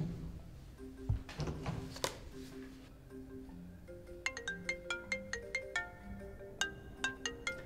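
In a classroom, a mobile phone ringtone plays a plucky, repeating electronic melody after a few thuds and rustles, clear and close with no talking.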